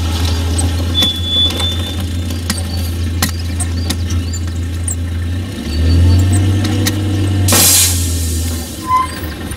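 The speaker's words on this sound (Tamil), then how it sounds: "எதுக்கு நீ கண்ட கண்ட இடத்துல வண்டியை நிறுத்துற" A car with a punctured tyre pulls over and stops: an engine hum that swells and drops as the vehicle slows, with scattered clicks and knocks.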